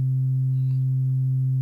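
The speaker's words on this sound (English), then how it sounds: "that's a saw wave with the harmonics filtered out" A synth saw wave with its harmonics filtered out leaves a steady, pure low sine-like tone that holds constant and loud throughout, with a faint trace of a higher tone briefly near the start.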